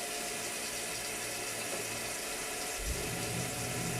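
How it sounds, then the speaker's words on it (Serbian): A tap opened to full flow on a Beretta gas boiler system makes a steady rushing water hiss, fairly quiet, with a low thump near the end. "slavina u levo, pun protok"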